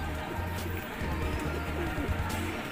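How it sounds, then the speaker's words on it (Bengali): Low, repeated cooing from a pair of local pigeons, a male and a female, soft throaty coos pulsing in a steady rhythm close by, over a faint background hum. "মাদি কবুতর"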